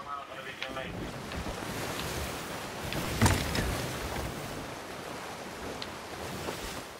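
Ocean water in the Sea of Thieves video game rushes and washes steadily around a sailing ship, with a broad windy roar and a brief louder splash midway and no talk.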